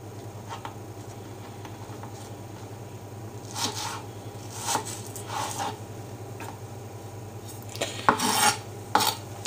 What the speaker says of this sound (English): I'm going to slice those into very fine half rings,